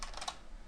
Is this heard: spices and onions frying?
no